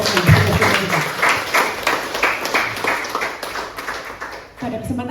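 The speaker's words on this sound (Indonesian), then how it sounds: "Kita berikan tepuk tangan untuk para tokoh yang bekerja kita." Scattered clapping at a Buddhist temple's charity gathering for funeral home workers in Tegal, a few seconds of uneven handclaps from a small crowd, moderately close, mixed with murmuring voices and ending in a brief pause.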